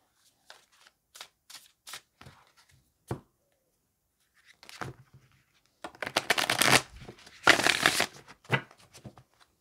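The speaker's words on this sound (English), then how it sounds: "Let's see what the cards say about Trump and treason." Tarot cards are shuffled by hand in a quiet room, starting with soft scattered taps and slides, then building into several louder riffling bursts near the end.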